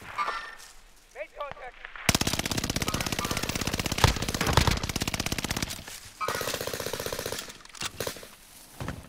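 Automatic fire in Call of Duty: Modern Warfare rattles in loud, rapid bursts, with a long sustained stream in the middle, shorter volleys afterward and a player's voice in the brief gaps.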